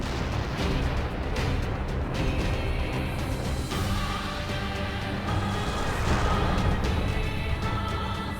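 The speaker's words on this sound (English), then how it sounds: "Activate missile controls. Prepare to launch." A missile launch in Nier: Automata roars as a dense, sustained rumble with booming bursts. It stays loud and steady from start to finish, with no talk.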